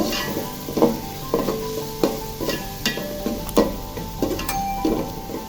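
Chili and coriander powder spices stirred through sizzling oil in a pan for a village-style deshi chicken curry, with a steady sizzle broken by regular scraping strokes about twice a second, close and clear.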